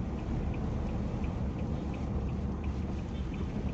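Heavy rain pours down while travelling on the road, a dense, constant roar of water that stays loud and unbroken throughout, with no talking.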